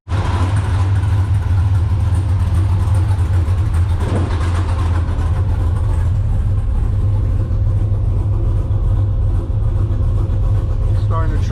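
A car fitted with a supercharged LSA V8, idling and running steadily after tuning, a loud, continuous deep engine rumble throughout, with people talking faintly over it.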